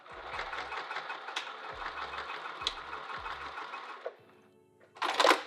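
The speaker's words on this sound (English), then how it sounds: "I'm going to sew one end down" Sewing machine stitching down one end of a handbag strap, a steady rapid mechanical whir in three or four short bursts, then a brief clatter of handling.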